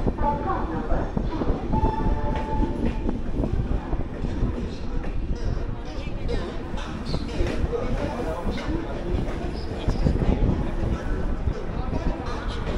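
The 13151 Jammu Tawi Express stands at a station halt on the Kolkata–Ayodhya route, a steady rumbling rail din with clanks and platform bustle throughout, loud and close.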